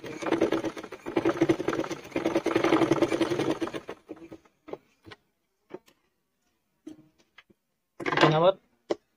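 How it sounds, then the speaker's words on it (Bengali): A domestic sewing machine runs a double line of stitching along a fabric seam for a ladies' panty, a steady whirring burst of about four seconds followed by short isolated clicks and a second brief run near the end. "এখানে একটা সেলাই দিব, তার উপরে আবার আর একটা সেলাই দিব, অর্থাৎ এখানে আমি ডাবল সেলাই দিয়ে নেবো"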